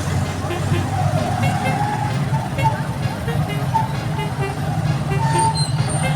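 Heavy, congested road traffic with motorcycles queued along the street, a steady rumble of engines with scattered short horn toots, and people talking over it.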